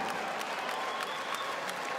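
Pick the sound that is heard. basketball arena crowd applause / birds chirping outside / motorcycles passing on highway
basketball arena crowd applause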